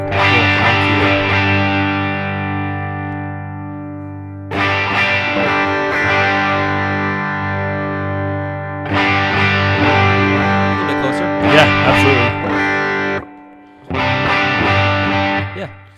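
Electric guitar through a Line 6 Helix Stadium XL or Quad Cortex amp model, loud distorted chords ringing out and decaying, struck again in several separate phrases with short gaps between them.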